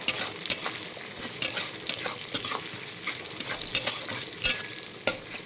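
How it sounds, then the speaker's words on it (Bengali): Chopped tomato fries with onion in a pan, a steady sizzle broken by repeated scraping strokes of a spatula stirring the mixture, close and clear with no talking. "টমেটো কুচি কিছু ভেজে নেবো।"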